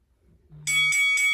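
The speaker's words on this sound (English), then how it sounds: "And there's our bell." Interval timer bell in a beginner HIIT workout class rings out loud and bright, three sustained chimes in quick succession, preceded by a low hum.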